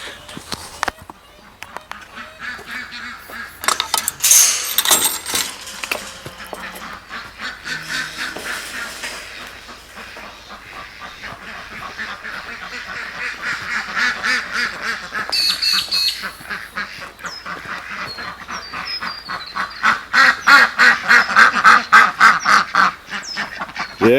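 Penned farmyard ducks quack repeatedly in excited bursts alongside chickens, close and loud, as they wait to be let out to free range, with a person talking over the calls at times.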